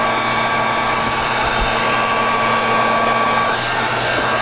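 A hair dryer blows steadily on wet acrylic paint, a close, continuous whirring hum with a bright whine that holds level throughout, with no talk over it.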